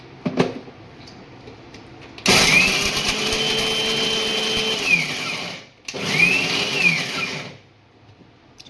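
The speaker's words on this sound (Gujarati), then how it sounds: "અહીંયા આપણે મિક્સર જાર લીધો છે તો આપણે એમાં એને પીસી નાખવાના છે" A mixer grinder jar grinds cashews with cardamom pods in two loud bursts, a harsh rattling whir with rising and falling motor pitch, separated by a brief pause, with quieter handling before and after.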